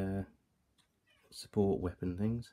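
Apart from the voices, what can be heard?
cat meowing for food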